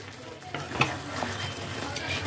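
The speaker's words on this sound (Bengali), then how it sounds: "আবারও একবার ভালো করে সমস্তটা নাড়িয়ে দিচ্ছি।" Chilli paneer frying in a pan is stirred thoroughly, with a continuous sizzle under a few sharp spoon-against-pan scrapes and clinks, close and fairly loud.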